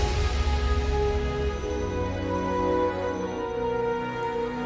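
A sweeping orchestral passage with sustained strings over a deep low end, steady and full throughout without any voices.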